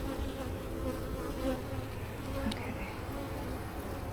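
A steady, dense buzzing of many honeybees hovers close around an open hive, a constant insect drone filling the background with a faint murmur of activity.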